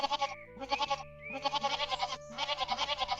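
Baby goats in a kids' cartoon bleat repeatedly in a string of close, fairly loud calls with short gaps between them, and no one talks.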